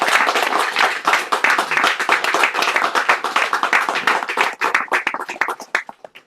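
A small audience at a poetry reading bursts into dense, loud applause close by, the claps thinning into scattered individual hand claps as it fades out near the end.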